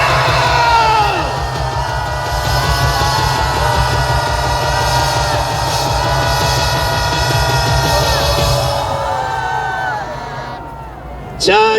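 A large crowd at a political rally in Gwanghwamun, Seoul, waving placards, roars and shouts continuously in a loud, sustained wave of cheering, with voices blending into a steady outdoor din.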